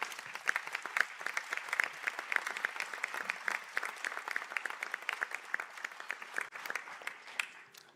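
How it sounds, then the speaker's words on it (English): Audience applause for Masters in Bioprocessing graduates at a college conferring ceremony, a lively, crisp patter of many hands clapping in a hall, steady for the whole stretch and tapering slightly at the end. "I ask the graduates of the Masters in Bioprocessing to stand for a round of applause."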